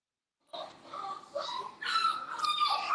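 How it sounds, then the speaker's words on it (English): A dog whimpers and whines in a high, almost human-sounding voice, rising and falling in close, continuous cries that grow louder toward the end. "That dog sounds like a human."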